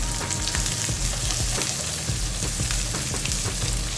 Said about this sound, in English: I'm gonna add the green chili to the pan, so that this roast it together at the same time